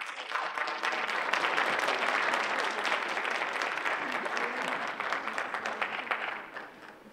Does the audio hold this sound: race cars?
no